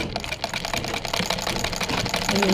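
A sewing machine runs steadily, stitching a gathered frill onto a sleeve cuff, its rapid needle chatter continuous and fairly close for the whole stretch with no talk over it.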